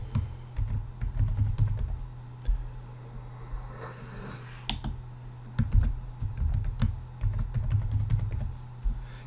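Typing on a computer keyboard to enter a username and password login, a quiet, close stream of uneven key clicks in short bursts with brief pauses between.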